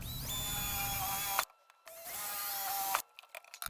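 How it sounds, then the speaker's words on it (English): A power drill whines steadily in two long bursts, each cutting off abruptly, with a short quiet gap between and a brief mechanical clatter at the end. "drill a couple of holes"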